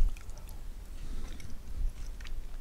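Soft, close chewing of buttery mashed winter squash seasoned with salt and pepper, quiet wet mouth sounds in a brief, irregular rhythm with no talking.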